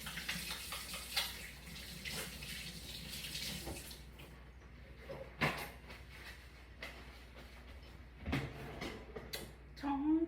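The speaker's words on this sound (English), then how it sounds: "washing my hands again" Hands washed under a running kitchen tap while braising collards and chard, a splashy rush of water in bursts with clattering handling and small knocks, moderately quiet and close.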